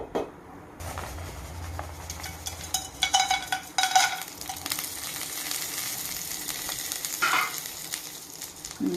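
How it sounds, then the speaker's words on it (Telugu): Spices tempering in hot oil for a foxtail millet and lentil khichdi, a soft steady sizzle with scattered crackles and pops, fairly quiet and continuous, with no talk. "ఇప్పుడు తాలింపు వేస్తామండి. వేస్తున్నానండి."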